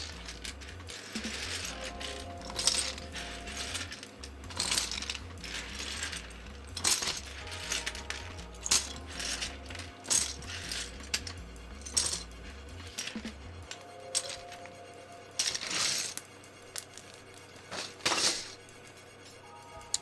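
Clacky keycap strikes on a KBD67 keyboard fitted with Zilents silent switches, irregular sharp taps and rattles close up, over steady low background music that drops out partway through.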